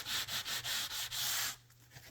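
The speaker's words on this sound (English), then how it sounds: "It's more of just like a cleaning pass really, just to get some of that old residue and gunk off" A cleaning pass scrubbing old residue off the headstock of a Yamaha BB300 bass guitar: a close run of rapid rhythmic rubbing strokes in repeated bursts that stops abruptly, leaving quiet room tone.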